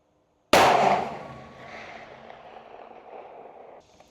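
A CVA Endura Pro muzzleloader rifle fires one shot at a target 800 yards out: a single sharp, loud blast followed by a long, rolling echo that fades slowly across the open range.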